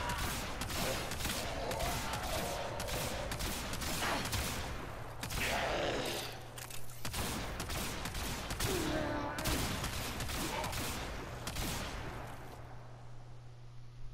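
Tomb Finger kitgun with inherent radiation firing in Warframe, a rapid, dense string of loud shots that carries on for about twelve seconds with sweeping energy effects layered over it, then fades at the end.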